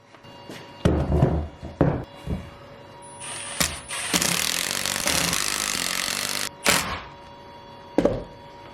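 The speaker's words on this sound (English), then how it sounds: "trim it out with probably my electric chainsaw" An electric chainsaw revs in short bursts, then bites into a large English walnut crotch with a sustained loud whine, followed by a few more brief revs.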